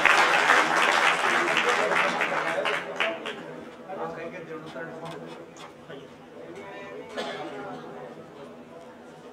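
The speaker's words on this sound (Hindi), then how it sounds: "जोरदार तालियां मुकेश कुमार धाकड़ के लिए" Audience applause for Mukesh Kumar Dhakad at a Dhakad community student-honour ceremony at a hostel in Jhalrapatan, loud at first and gradually fading, mixed with crowd chatter and some talking.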